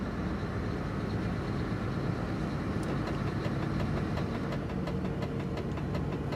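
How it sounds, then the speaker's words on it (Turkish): A truck engine runs steadily with a low rumble and a faint rhythmic knocking, continuous and fairly close, with no speech. "Kafamız nasıl güzel bu motor sesinden."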